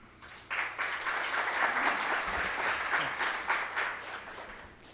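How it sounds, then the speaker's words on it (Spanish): Loud applause from an auditorium audience at an electoral school event, a dense steady wash of clapping that starts abruptly and holds for several seconds with no talk over it. "Lo recibimos con fuertes aplausos."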